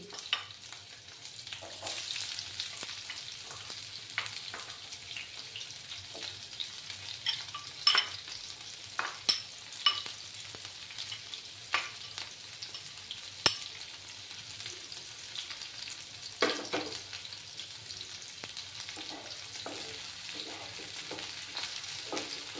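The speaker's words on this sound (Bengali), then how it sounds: "পেঁয়াজগুলোকে লাল লাল করে ভেজে নেব।" Chopped medium onion fries in a pan, giving a steady close sizzle broken by repeated scraping stirs, with no talking.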